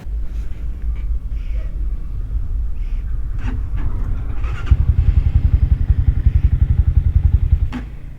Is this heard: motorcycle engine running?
yes